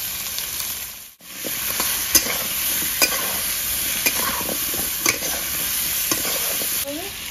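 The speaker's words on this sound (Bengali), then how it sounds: "ভাজতে ভাজতে অর্ধেকটা সেদ্ধ হয়ে যাবে, আর ডুমো ডুমো কাটলে একটু দেরি লাগে সেদ্ধ হতে।" Diced potatoes frying in oil with salt and turmeric for a village-style rohu fish curry, giving a steady close sizzle broken by regular scraping clicks of a stirring spoon, with no talking.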